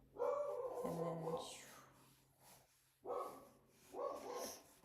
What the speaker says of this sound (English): My dog is going to bark and be driving me nuts out.